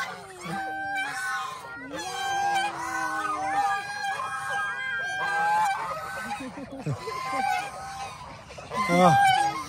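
Geese honk loudly and continuously while a grandfather feeds them on a provincial farm in Guimba, Nueva Ecija, many overlapping nasal calls close by, with a voice talking briefly underneath.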